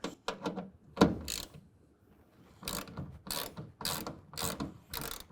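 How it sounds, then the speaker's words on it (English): A 10mm box end wrench turns a T30 Torx bolt on a tonneau cover rail of a 2024 Ford Ranger, giving repeated close ratcheting clicks in separate short strokes with short pauses between them. "We're going to use the 10mm box end wrench, slide that in place, and use our T30 Torx bolt."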